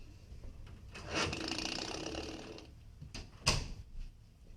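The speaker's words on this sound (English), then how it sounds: "I'm going to shut the door just in case to make it easier for you to hear me." A room door being shut indoors, heard as a drawn-out wooden rubbing and creak followed by a sharp close thud and a brief rattle, near and alone.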